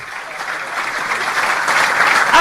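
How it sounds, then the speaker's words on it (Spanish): A live audience bursts into sustained applause, a dense wash of clapping that builds steadily louder over a couple of seconds with no voices on top. "¡Aplausos!"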